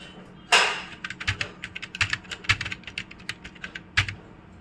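Keys clatter on a computer keyboard as input is typed, with a sharp opening tap followed by a close, irregular run of keystrokes.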